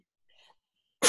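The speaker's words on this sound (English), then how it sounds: "Oh, 1 second, I'm going to sneeze." A single sharp, loud sneeze bursts out abruptly at the end after a brief faint inhale, otherwise near-silent.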